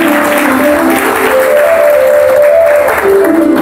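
A church congregation applauds in acclamation of the word of the Lord during a French-language service: steady, dense clapping from many hands, with a faint sustained tone underneath and no voices.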